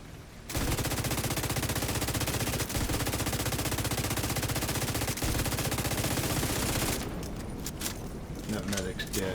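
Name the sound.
minigun gunfire in video game The Division 2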